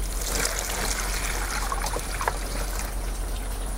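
A liter of borehole or ordinary water is poured to make saline solution for catfish hatching, a steady close trickle and splash running continuously.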